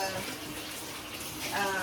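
Steady running water pours from a kitchen tap into a bowl, a continuous rushing splash with a faint crackle of frying underneath, close by.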